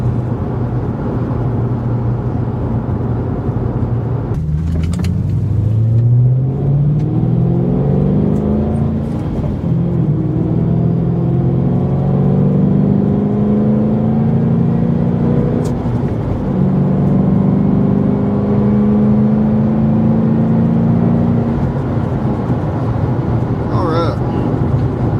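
A 2007 Ford Mustang GT pulls away and accelerates hard through the first four gears to about 4,000 rpm. The engine drone sweeps upward with each shift and stays loud and close throughout.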